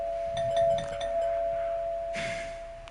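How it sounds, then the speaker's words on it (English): A front door chime rings in the video game 428: Shibuya Scramble: a soft electronic ding-dong followed by a second, brighter chime, heard over a steady high background tone. "The front door chime sounded."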